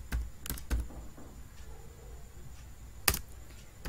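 Keys clack on a computer keyboard in a few sharp, close taps, a pair early, a couple more at the end, with quiet gaps in between and no talk.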